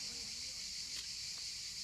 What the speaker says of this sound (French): Est-ce que tu sais qu'est-ce qu'on entend là? Des cigales, enfin.